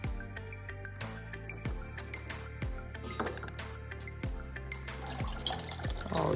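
Homemade oat milk is poured into a filter and drips into a container below, with a series of sharp clinks and plinks against a quiet background and a gentle trickle of liquid in between.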